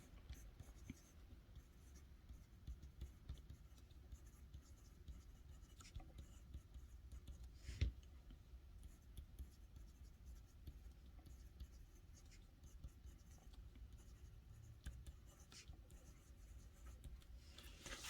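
Fountain pen with a stub nib writing a quick sample on paper, faint continuous scratching strokes close to the microphone with one sharp tap midway, soft and quiet throughout.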